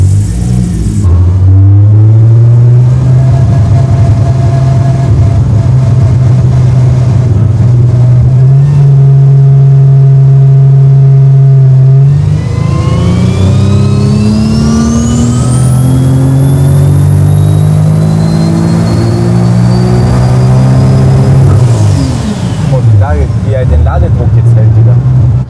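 Car engine running on a dynamometer test bench, holding a steady idle drone before revving up into a rising whine that holds high, then drops back; loud and close, with people talking over it.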